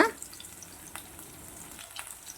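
Chopped large onions fry in hot oil over a tempering of mustard, fenugreek and cumin for a tamarind okra curry, giving a faint, soft sizzle with an occasional light stir after a brief louder splash at the start.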